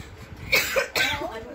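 Two sharp coughs in close succession, near and fairly loud, with soft background voices.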